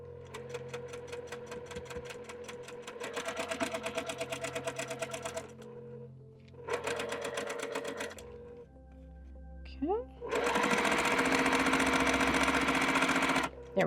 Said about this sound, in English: There's the first piece sewn